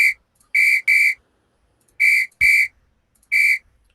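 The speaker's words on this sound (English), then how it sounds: "When you press Splat 4, makes another ref whistle sound" A referee whistle sound effect triggered by a button press in a simple coded program gives six sharp, loud toots in clusters: one short blast, then a double, then a pause, another double and a final single blast.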